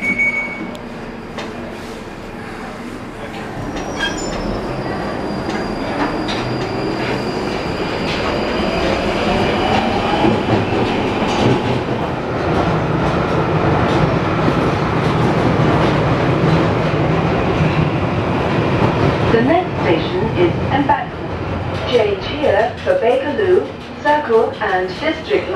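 A London Underground Northern Line train runs between Waterloo and Euston, a loud continuous rumble that rises and swells, with wheel squeal and clatter toward the end and an onboard announcement voice heard over it.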